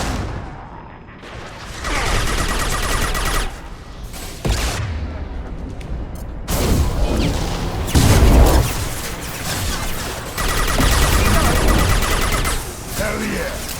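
Heavy weapon fire and explosions in a Mass Effect 2 combat, loud booming blasts and rumbling bursts coming in several waves, with voices shouting amid the noise.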